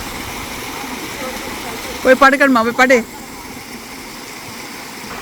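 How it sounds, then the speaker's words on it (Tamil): Kaluthuruti waterfall flowing near a pineapple plantation, heard as a steady broadband rush of falling water under a brief burst of a woman's speech in the middle of the clip. "இந்த அருவி பேர் என்ன"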